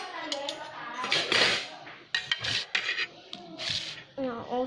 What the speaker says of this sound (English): A spoon.